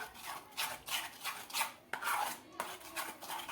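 Semolina batter with baking soda, salt and water being stirred in a bowl, giving repeated scraping, rubbing strokes of a spoon against the sides in a steady rhythm, close and fairly quiet with no talking.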